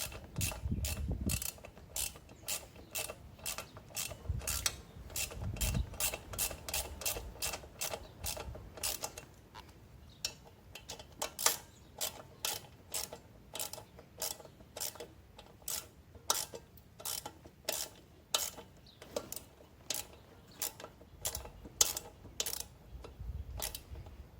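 A hand ratchet tightening thread-locked fender bolts on an Ice Bear Champion, with sharp, rapid clicking strokes repeated in rhythmic runs and brief pauses, close and clear.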